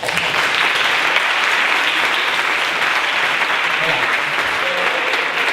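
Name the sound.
applause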